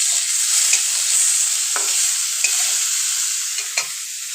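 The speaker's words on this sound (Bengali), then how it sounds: "আলু ফুলকপি ভাজা" Potatoes and cauliflower fry in hot oil with a steady, close sizzle, broken by a few short scrapes of stirring and no talk.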